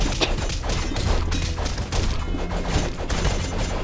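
Bombs thrown by knights burst in a dense, loud barrage of overlapping explosions and crashes in the Castle Crashers brawler, with sharp blasts piling up continuously.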